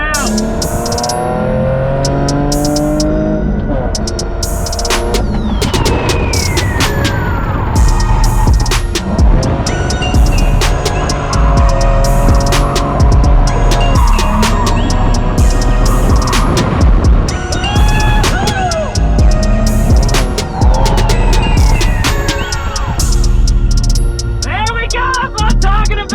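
A drift car running on 225 Nexen tires at a Slide Factory drift party at Willow Springs, its engine bogging in third gear; loud, sustained engine roar with revs rising and falling and bursts of tire squeal throughout, close and continuous.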